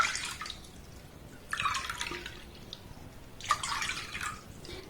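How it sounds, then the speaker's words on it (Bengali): Water poured into a pan in short splashing bursts, three separate pours a second or two apart, close and moderately loud with faint dripping between them, no voices. "এক বাটি দুধের জন্য এখানে 3 বাটি আমি জল অ্যাড করলাম"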